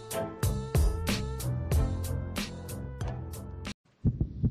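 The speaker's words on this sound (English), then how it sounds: "This is the sound of a racing heart." A young child's heart races in a fast, even series of thumping beats, loud and close, ending in a brief silence and then a few fainter beats.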